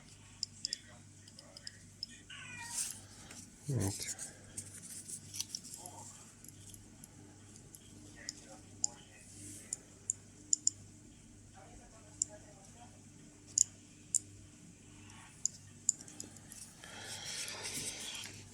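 Geiger counter with an SBM-20 or SBT-10A tube ticking near a radioactive source, sparse irregular sharp clicks at a quiet, close level, with faint handling noise and occasional murmured speech.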